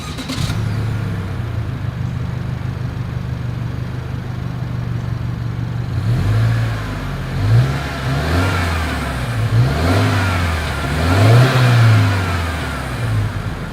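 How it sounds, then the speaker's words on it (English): A 2021 Subaru Outback XT at idle, then its engine revved several times in rising and falling sweeps, the exhaust loud and close with no talking. "As always, here is that exhaust clip."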